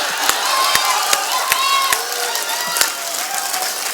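An audience at a Hindi kavi sammelan poetry recital in a medical degree college claps and cheers, a lively crowd roar with scattered sharp hand claps throughout, close and loud, with no one speaking over it.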